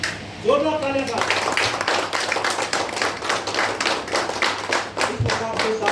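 An audience at a welcome ceremony for a police sub-inspector bursts into loud, sustained clapping, many hands beating in a dense rhythm that carries on for several seconds with voices faintly underneath.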